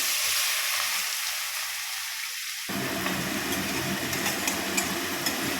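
Chopped onion and garlic drop into hot oil, a faint quiet sizzle suddenly bursting into loud, dense, crackling frying that continues steadily up close.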